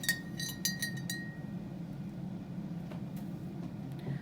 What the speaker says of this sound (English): you might want to give it a stir so that the color isn't just on the bottom.